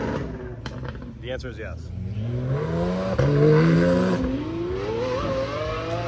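A Lamborghini Aventador SVJ at a supercar show revs its engine, the pitch climbing steadily in a rising howl over crowd noise, with someone talking over it.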